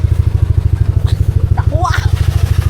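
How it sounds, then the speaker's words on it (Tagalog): A motorcycle engine pulses steadily and close by during a ride, a low, regular throb running the whole time while a voice speaks over it briefly. "Okay, sakay kami ng motor."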